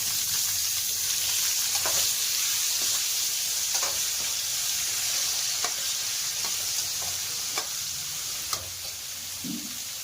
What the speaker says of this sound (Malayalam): ഇനി നമുക്ക് നമ്മുടെ ഇത് മഷ്റൂമും അലവും ഇട്ട് കൊടുക്കാം